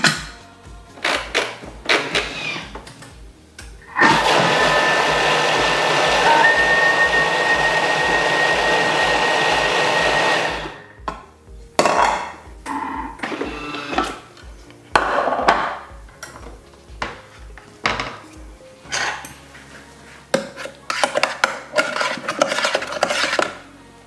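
A blender whirs steadily for several seconds, puréeing an avocado, courgette and mint gazpacho with added courgette cooking juice, framed by sharp clinks and knocks of kitchen utensils before and after.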